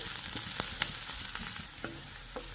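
Garlic and onion frying in a pan for mixed vegetable vermicelli, a steady close sizzle broken by sharp scraping clicks of a spoon stirring the pan.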